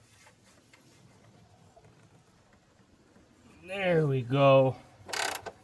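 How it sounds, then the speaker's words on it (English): A wrench ratchets on a car's strut bolt in two short clicking bursts after a quiet stretch, close and distinct, followed by a brief metallic sound; a person speaks briefly. "Get our wrench on it. And then slowly apply pressure."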